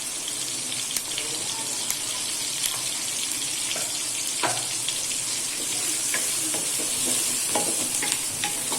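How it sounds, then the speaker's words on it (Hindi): Onions and thick green chillies sizzle steadily in hot oil for a highway-style chicken karahi, a dense, constant frying hiss with occasional stirring scrapes and pops close by. "तो ये देखिए मैं पहले अपने जो मेरे प्याज हैं इनको ब्राउन कर लूँ।"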